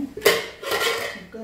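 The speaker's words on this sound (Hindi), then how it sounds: "अब हम कुकर को थोड़ा सा ओपन करते हैं।" Metal clatter of a pressure cooker lid being opened on a kitchen stove during cooking of green dried pea masala curry, a sharp clank followed by rattling metal handling, close and brief, with a voice talking faintly.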